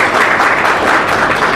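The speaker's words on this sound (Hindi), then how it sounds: "मैं चाहता हूँ कि सब लोग जो है एक मतलबा ज़ोरदार तालियां बजाकर उनका वेलकम करें" A school audience gives loud, dense, sustained applause to welcome a teacher, a close wash of many hands clapping with no break.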